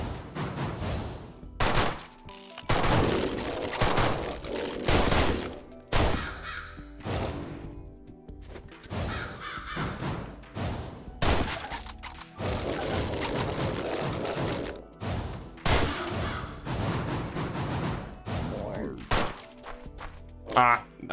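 Gunfire in the video game Deadbolt, a run of loud, sharp bursts and thuds repeating irregularly throughout over game sounds and music, with someone talking over them.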